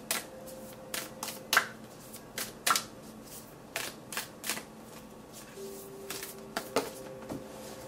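Oracle cards are shuffled and handled in close, quiet bursts: a dozen or so short papery riffles and flicks scattered over several seconds, with soft pauses between and a faint tonal hum underneath.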